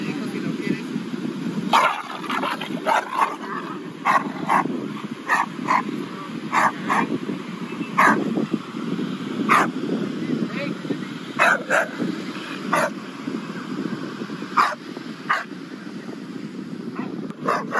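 A large dog, Presa Canario or Dogo Argentino, barks repeatedly in a street encounter, sharp barks scattered irregularly over steady Spanish conversation.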